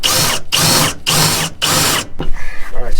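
A power drill bores holes in the bed of a 2022 Chevy 2500HD for a B&W Turnoverball gooseneck hitch. Four loud, close whirring bursts with short gaps are followed by softer ratcheting and clicking.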